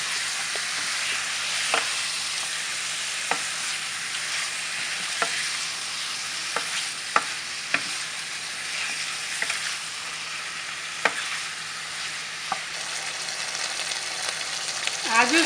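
Chicken sizzles steadily in a pan, with a spoon scraping and stirring in soft, regular clicks over a constant frying hiss.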